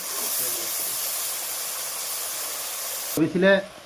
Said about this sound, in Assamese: এতিয়া আমি ভালদৰে মছলাটো ফ্ৰাই কৰি ল'ম।